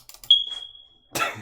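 A single short, high-pitched smoke detector beep sounds clearly, followed by a brief burst of rustling noise.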